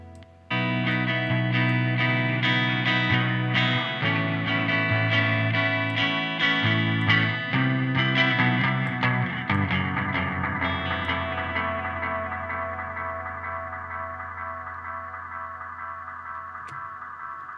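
A guitar-like synth riff drenched in echoing delay and shimmering plate reverb from a plugin, its repeats smearing into a long wash that slowly decays after the notes stop.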